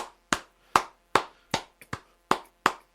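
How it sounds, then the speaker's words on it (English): A few hand claps from a radio show host in a studio, about eight sharp claps in an uneven rhythm, close and clear with short gaps and no talk. "I like giving you a few claps afterwards."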